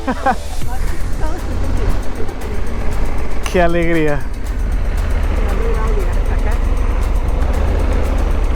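A steady motorcycle engine rumble and wind roar run throughout while riding in Morocco, a voice speaking briefly near the start and a short melodic horn-like tone rising midway.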